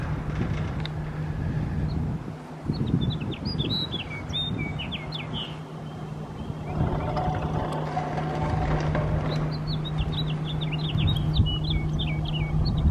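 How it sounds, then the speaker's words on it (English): A bird sings in repeated bright chirping phrases above the steady rumble of a car driving along the Parkway in Gatlinburg, Tennessee, the song clear but partly masked by road and engine noise. "There's a beautiful bird singing."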